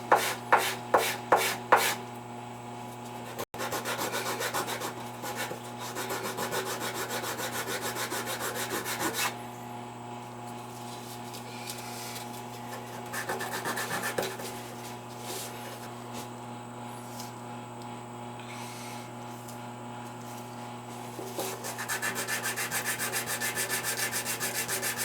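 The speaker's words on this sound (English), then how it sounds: "I just sanded that down with the sandpaper, nice and flat" Sandpaper rubbing back and forth on a kitchen faucet part, flattening it after a replaced knob still left weak flow; a few sharp taps open, then steady close scratchy sanding strokes continue over a constant low hum.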